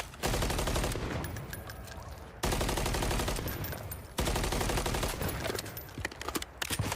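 Gunfire in Call of Duty Warzone Mobile: loud, sustained automatic bursts rattle in three long volleys, each cutting off abruptly, with scattered shots trailing at the end.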